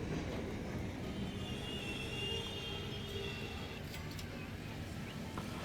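An electric passenger train in the video game Transport Fever 2 runs with a steady, dense rumble. The rolling noise is continuous and fairly close, with faint higher whines and brief squeaks near the end.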